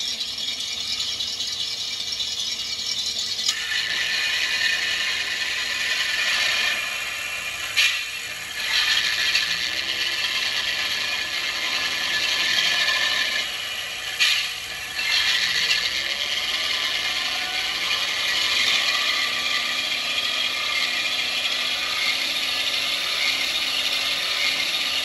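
Engine sound from a 1:12 scale Kingkong RC ZIL 130 model truck being throttled, a steady close rattling mechanical drone with brief dips and surges as the throttle is blipped. No talking.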